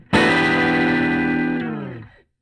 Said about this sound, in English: So we're getting a nice breakup there happening now.